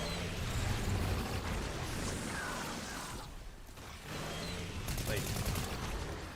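Rapid automatic gunfire from the video game Fortnite rattles in dense bursts, a brief pause, then more firing, with a voice speaking a word over the game audio.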